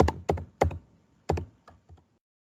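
Keys tapped on a computer keyboard while filling in an online university application form: a handful of sharp, close clicks in uneven bursts, with pauses between, no voices.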